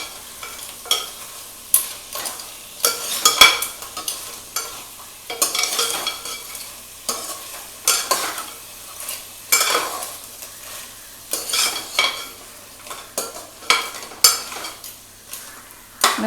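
Crab being stirred with ginger-garlic paste in a hot pan for a spicy Tamil crab curry, a steady sizzle broken by repeated scraping strokes of the spoon against the pan, close and fairly loud, with no talking.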